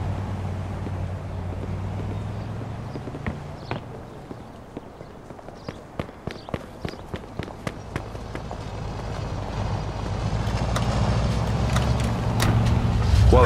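A car in the Mafia II: Definitive Edition video game drives with a steady low engine rumble, with sharp clicking ticks in the middle stretch and the engine swelling louder toward the end.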